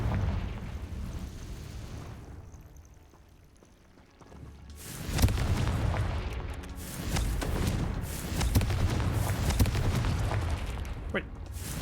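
After a quiet lull, a Confringo fire spell in the wizarding game Hogwarts Legacy bursts into a sudden loud explosion, followed by sustained rumbling blasts and debris-like crackle for several seconds.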